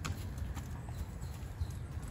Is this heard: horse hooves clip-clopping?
yes